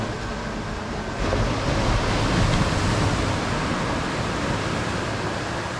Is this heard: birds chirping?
no